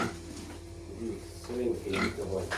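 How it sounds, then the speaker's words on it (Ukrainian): Soft grunts and snuffling from small pigs, close by, with a few louder bursts near the end; no clear speech. "Продам порося, дивіться, ось які."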